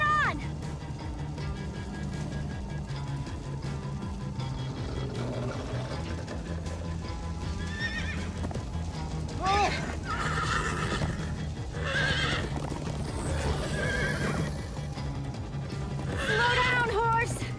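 Horse whinnies and neighs ring out repeatedly over a rumbling clip-clop of galloping hooves in the Minecraft: Story Mode video game, with game music and characters talking underneath.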